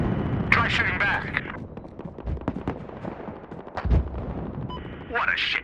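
Battlefield Hardline gunfire in a chaotic firefight, sharp shots and heavier booms popping irregularly under shouted voices, with a low rumbling battle din running throughout.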